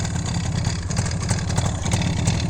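A cold 1979 Yamaha RD400 Daytona Special two-stroke motorcycle engine idles close by, a steady, slightly uneven burbling rumble with no voices over it.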